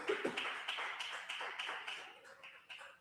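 A church congregation applauds during a sermon: a short burst of clapping from a room of people, uneven and moderately loud, with individual claps standing out before it thins and fades.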